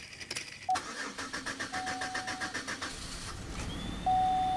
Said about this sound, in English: Even though it's running really shaky and the squealing's not going on, it sounds like it's running smooth.